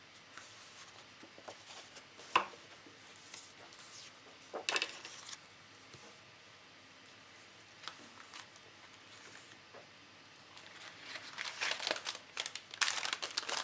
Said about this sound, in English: I'm going to open up the embellishment bag.